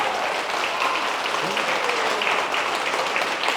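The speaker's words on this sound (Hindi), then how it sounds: "जोरदार वाली तालियां होंगे।" Steady applause from a crowd, a dense patter of clapping held at an even level throughout.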